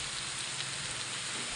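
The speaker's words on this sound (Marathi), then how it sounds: "आणि कंटिन्यू पाऊस येत आहे" Continuous monsoon rain, a soft, even rushing hiss heard alone and without voices for a short moment.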